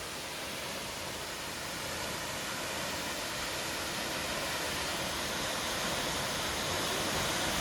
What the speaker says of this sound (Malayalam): മാർമല അരുവിയിലെ വെള്ളച്ചാട്ടം.